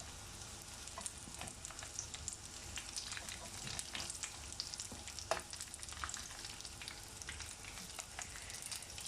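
Square pieces of salmon and Boursin amuse-bouche frying in a pan, a steady quiet crackling sizzle throughout with occasional sharper pops, no talking.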